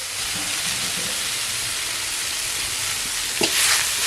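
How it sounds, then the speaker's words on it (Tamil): Drumstick leaves stir-fried with grated coconut in a pan, a steady close sizzle and frying hiss running throughout, with a brief scrape of stirring near the end. "தேங்காய் சேர்த்து நல்லா கலந்து விட்டுடலாம்"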